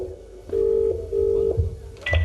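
A telephone being dialed to call someone's father: two long, steady keypad tones in a row, followed by a brief burst of higher tone as the call connects, fairly close and with no talking.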